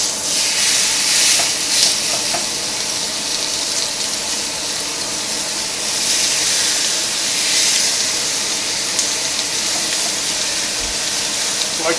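Spicy maple-glazed pork chops sizzle on a hot, oiled grill pan, a loud, continuous hissing fry with occasional small crackles and pops, heard up close with no voices.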